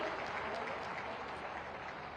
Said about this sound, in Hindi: आप सबकी तालियां अगर इस अवसर पर हो जाएंगी तो इसकी शोभा बहुगुणित होगी।